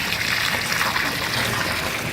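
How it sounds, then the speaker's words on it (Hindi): Water gushes steadily from the outlet of a solar DC motor water pump running at good pressure, a dense continuous rushing and splashing that stays even and close throughout, with no voices. "ये आप देख सकते हैं, पानी का प्रेशर भी बहुत अच्छा है"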